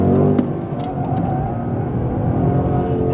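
Max Verstappen drives a Formula 1 car on a hot lap around Monaco, its engine roaring loud, close and steady throughout without any speech.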